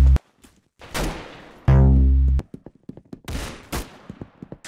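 Gunfire in the Roblox Arsenal video game: a few loud, close shots ring out, one with a long booming tail, followed by lighter scattered pops and clicks, with no talk.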